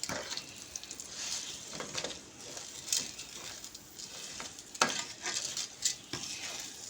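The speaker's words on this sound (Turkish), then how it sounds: "Şimdi güzelce pirinçlerimizi kırmadan kavurmaya devam arkadaşlar." Rice sautéing in a pan with meat juices for lamb kapama, a steady soft sizzle broken by scraping stirs and occasional light clinks of a utensil against the pan, moderately close.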